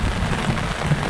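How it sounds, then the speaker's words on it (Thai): Strong wind with rain battering a campsite at Khao Yai Thiang in Thailand, heard as a dense, steady roaring rush that fills the whole clip with no voices. "ลมแรงครับ ฝนไม่เท่าไหร่ครับลมไม่ยอมแพ้"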